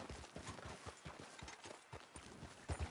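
Horse hooves clip-clop at a steady trotting rhythm in the Red Dead Redemption II video game, close and moderately loud, with a brief louder burst of movement at the end.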